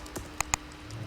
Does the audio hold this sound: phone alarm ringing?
no